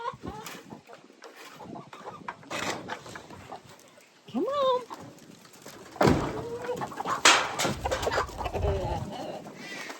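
Chickens cluck and squawk around farm coops on a windy, chilly morning, a steady busy flock murmur with a few louder calls, while a person speaks briefly over them.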